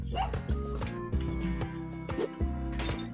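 A dog in the video game Spelunky 2 gives several short, repeated barks over a busy, tonal game soundtrack, the yips spaced out and moderately loud within the mix.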